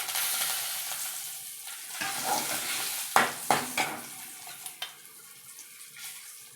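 Curry leaves dropped into hot oil for tempering crackle and sizzle, with a few sharp spattering pops in the middle, then a quieter steady fry; nobody speaks.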